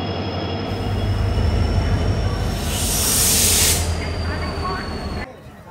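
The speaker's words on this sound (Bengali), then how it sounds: "আমাদের ট্রেন জনশতাব্দী এক্সপ্রেস স্টেশনে ঢুকছে" The Jan Shatabdi Express pulls into Howrah station running late, with a loud continuous rumble of wheels on rails. A bright hiss swells in the middle, and the roar drops off suddenly at the end.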